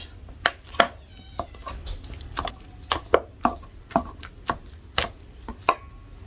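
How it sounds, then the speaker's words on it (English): Bananas being mashed for a sweet banana batter give irregular, close-up knocks and clacks of a utensil against a bowl, a dozen or so sharp hits over a low background hum. "So we're gonna mash the banana up"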